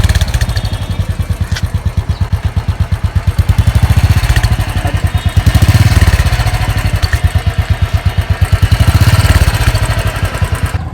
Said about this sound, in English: So now let's hear the firing of this motorcycle.